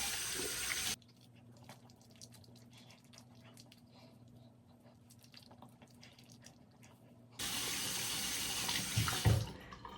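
Water runs loudly from a bathroom sink tap as someone rinses their face. A steady rush plays for about a second, then a long pause of quiet room sounds, then the tap flows again with splashing near the end.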